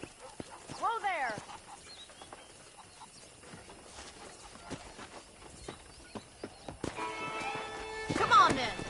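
Horse hooves clip-clop in the Red Dead video game as a ridden horse sets off, with irregular hoofbeats under game speech and a whinny near the end.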